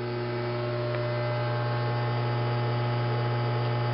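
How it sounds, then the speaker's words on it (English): A gas furnace's blower motor runs steadily, giving a constant low hum with a faint even whir above it, close and unbroken, with no talking. "our board has told the motor to come on, and this will continue to run until your house is warmed up"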